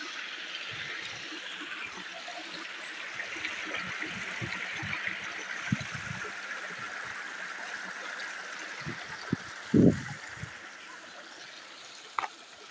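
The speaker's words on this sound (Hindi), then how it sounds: "जहाँ पर एक आबशार आ रही है।" Steady broadband rush of a waterfall and flowing stream in mountainous Japan, continuous throughout with a few faint knocks and splashes.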